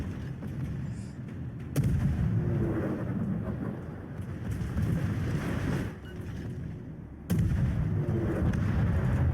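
Naval guns boom in the World of Warships video game, two heavy blasts about five seconds apart over a constant wind-and-sea rumble.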